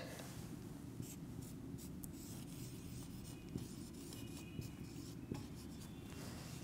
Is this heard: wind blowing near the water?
no